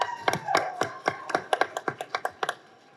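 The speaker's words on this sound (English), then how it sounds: "Let's welcome with a big round of applause a charming actor that everybody is maddy about" Scattered hand claps from an audience at a movie trailer launch welcoming actor Madhavan, about a dozen sharp, separate claps at close range that thin out and fade toward the end.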